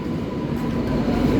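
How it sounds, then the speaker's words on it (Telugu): The Howrah to Satya Sai Prasanthi Nilayam weekly express pulls into a platform, giving a steady, close rumbling roar of rolling wagons with faint rail clatter. "హౌరా నుంచి సత్యసాయి ప్రశాంతి నిలయం వెళ్ళే ఎక్స్ప్రెస్ ట్రైన్"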